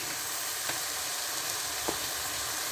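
Spinach fries in a wok with a soft, steady sizzling hiss at moderate distance, broken by two brief stirring clicks.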